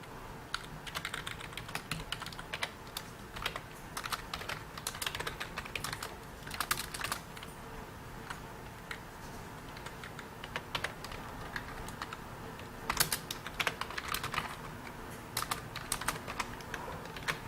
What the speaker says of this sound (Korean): 키보드를 누르고 있으면은